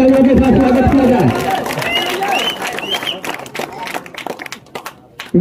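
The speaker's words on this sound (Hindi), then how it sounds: "जोरदार तालियों के साथ स्वागत किया जाए।" Crowd applause and cheering at a cricket prize presentation as a team receives a trophy and cash prize, loud dense clapping and chatter at first that thins out and fades to scattered claps, with voices over it.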